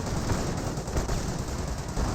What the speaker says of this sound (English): Felt like there was a Flak 88, but maybe just the Panthers firing away.